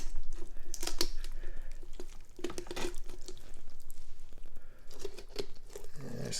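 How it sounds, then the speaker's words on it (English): Crunching and cracking of raw turkey bones, repeated snaps and crackles at close range with a rough, tearing texture. "you can hear bones crunching."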